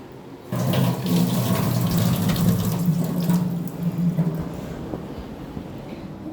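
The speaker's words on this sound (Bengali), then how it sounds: "হাত ধুয়ে নিই" Hands are washed under a running tap at home, steady splashing water beginning after a brief pause and continuing close and fairly loud, then thinning out toward the end.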